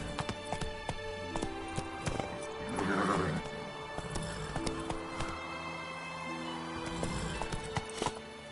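Horse galloping in a PS4 video game, with rapid clip-clop hoofbeats and a loud whinny partway through, set against steady game music.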